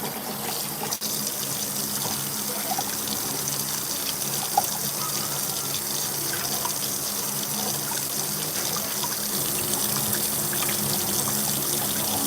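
Water runs steadily from a sink tap while food, likely chicken, is rinsed repeatedly, producing a continuous close gushing and splashing stream with no talk.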